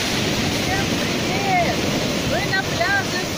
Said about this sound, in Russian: Здесь шикарные волны.